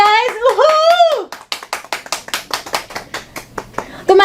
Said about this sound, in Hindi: जोरदार तालियां गाइस